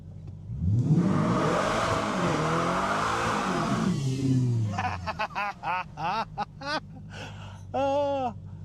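A Chevrolet Corvette C8 engine revs loudly and rises for several seconds, then gives way to short, choppy bursts of laughing voices.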